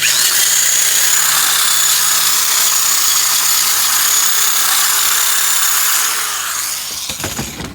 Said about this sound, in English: Got the heads over here, cleaning them up with the wire wheel.